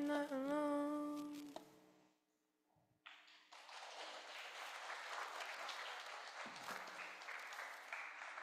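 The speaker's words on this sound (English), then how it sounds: "Give them another round of applause." A church congregation applauds after a youth group's song at a Youth Sunday service: steady, fairly close clapping sets in after a sung note fades and a brief pause, then keeps up evenly to the end.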